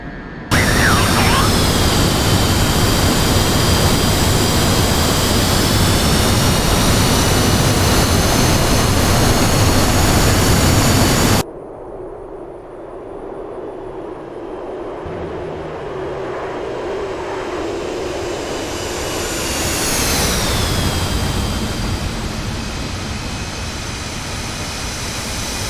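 A jet aircraft engine in the DCS World flight simulator roars loud and steady, then cuts to a lower, quieter hum with a whine that rises and falls, while a voice talks at times.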